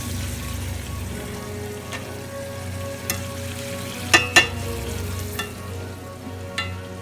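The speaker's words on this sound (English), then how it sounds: "All we want to do is let this stuff simmer on low heat" Lightly spiced chicken and bacon simmer in a pan on low heat, giving a steady, gentle sizzle with a few sharp utensil clicks and taps near the middle, close up and without talk.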